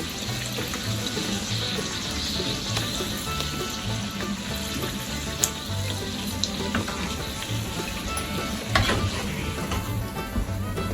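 Bhatura deep-frying in hot oil on its second side, a steady dense sizzle and bubbling running throughout with occasional small pops and clinks, fairly close and with no talking.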